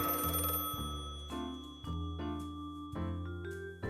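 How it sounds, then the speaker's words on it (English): A telephone bell rings in repeated electronic trills, each burst a bright warbling tone with a steady pitch. The rings are loud and close, sound alone, and continue for several cycles. "a dreadful ringing pierced my ears. Of course it was my phone"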